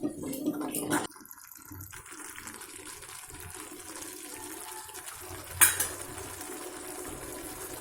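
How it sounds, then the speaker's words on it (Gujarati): Spoonfuls of water added to a simmering Manchurian gravy in a pan, a short splash and sizzle followed by quieter stirring and cutlery clinks, with one sharp clatter near the end. "5 થી 6 ચમચી પાણી એડ કરીશું."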